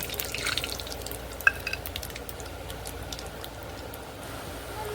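Cumin, curry leaves, cardamom, cloves and other whole dry spices fry in hot oil for a Punjabi capsicum sabzi, giving a soft, faint crackle with light stirring clicks and a single sharp tap, all close by without speech.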